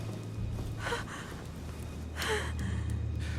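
A woman in the video game The Council draws a couple of audible breaths, soft gasping inhales standing out against a quiet, low background hum.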